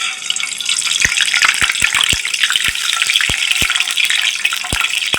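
Eggs sizzle in hot oil in a pan, a steady loud crackle with sharp pops and spits scattered throughout, close and without talk.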